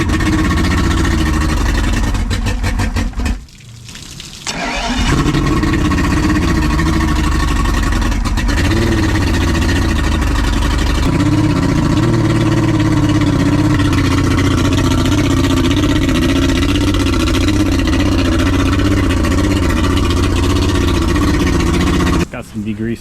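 A used outboard boat engine that has just passed a good compression test. It cranks, stumbles briefly, then catches and runs steadily and loudly for the rest of the clip, with a rough, rumbling drone.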